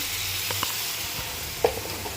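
Food fries in a pan after turmeric and salt are added, a soft, even sizzle with a few scattered stirring clicks and one sharper knock, close by and without talk.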